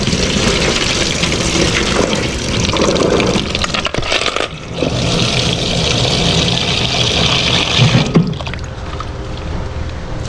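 Running water pours and splashes steadily as something is rinsed over and over, a close, continuous wash with a brief dip midway before the flow resumes.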